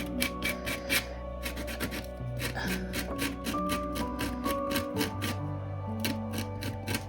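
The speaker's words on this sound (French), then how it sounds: "c'est là que rentre en jeu le petit cutter ou couteau de précision. Vous allez venir gratter tout doucement." Precision craft knife scraping gently across a pyrography wood disc, a series of quick raspy strokes in an uneven rhythm, close and quiet, with a faint tonal hum underneath and no talking.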